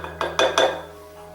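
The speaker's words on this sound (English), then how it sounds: "this is how I'm going to mix it together" A spoon mixes rhubarb and raspberry pie filling in a bowl, three quick clinking scrapes in a row, close and clear, then a quiet tail with a low steady hum behind.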